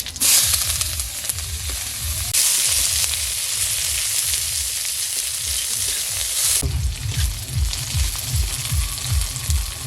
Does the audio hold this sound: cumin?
yes